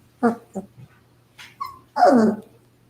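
Several tiny puppies whimper and yip in short, high cries, a cluster of quick whines followed by a longer drawn-out whimper, close and clear against a quiet room.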